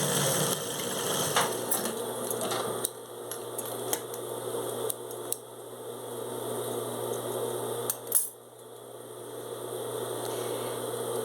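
A sewing machine stitches the sides of a fabric shoulder bag, giving a steady close motor whir with scattered sharp clicks and one brief louder rattle near the end.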